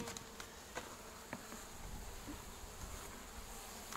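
Honeybees buzz at an apiary while nucleus hives are being settled. The swarm hum is steady and soft, with a few faint clicks and taps and no talking.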